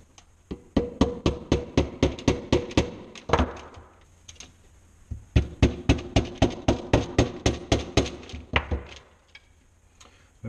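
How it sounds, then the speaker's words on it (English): Steady rhythmic hammer blows striking a nail into a handmade shoe, two long runs of sharp evenly spaced strikes separated by a short pause, close and loud. "we don't need to hammer in that nail too deep."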